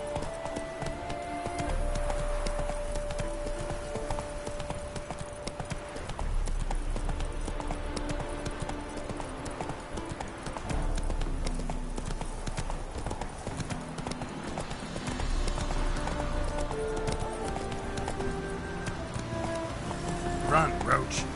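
Hooves beat steadily as a horse gallops in a video game, a continuous clip-clop rhythm running beneath game music and ambience for the whole stretch.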